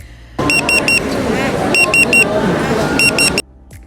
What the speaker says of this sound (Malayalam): നമ്മുടെ ഓർഡർ റെഡി ആയി കഴിഞ്ഞിട്ടുണ്ടെങ്കിൽ നമുക്കിതിൽ ബീപ്പ് സൗണ്ട് വരും